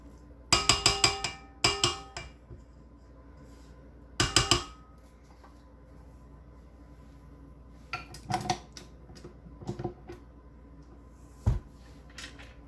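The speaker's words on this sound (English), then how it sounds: "And now we're just going to give all of that a quick stir." Spoon clinking against a bowl while cake batter for a dairy-free lemon cranberry cake is stirred: a few bright, close clusters of clatter separated by quiet pauses, with scattered softer clinks toward the end.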